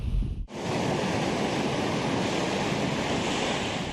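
Tall surf, waves up to 2.5 metres high, crashes onto the Karangasem shore in stormy weather with strong wind. It begins with a brief gust, then becomes a loud, steady roar of breaking water that fills the rest of the clip.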